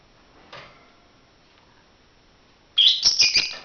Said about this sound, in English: I apologize for the bird in the background